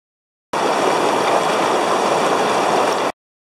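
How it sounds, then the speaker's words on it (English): Rushing water of the Athabasca River flows through trees in a steady, loud, broadband roar that starts and stops abruptly, with no voices over it. "The water's just coming down through the trees there."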